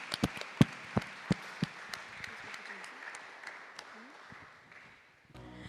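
A worship congregation at a youth jam session in Goa claps, starting with a handful of sharp, separate claps that blur into softer scattered applause, fairly faint, then fade into a quieter pause.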